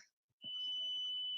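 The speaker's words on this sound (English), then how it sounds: "alarm system. I'm gonna turn it off." A home alarm system sounds a steady, piercing electronic tone that starts abruptly after a short silence and holds continuously, fairly quiet and alone.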